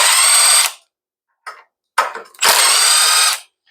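Socket ratchet backing out a screw on a lawn mower carburetor: loud, close bursts of rapid ratcheting clicks, a long run, a brief stutter, then another sustained run, with no talking.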